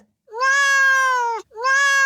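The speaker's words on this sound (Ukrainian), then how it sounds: "це кішка." A cat gives two long, clear meows, the first drawn out and the second starting right after a brief pause, loud and close with no other sound.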